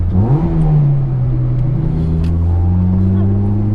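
A 2005 Honda Civic Si EP3 engine revs up, then holds a steady, loud droning hum with rising and falling pitch, close by and continuous.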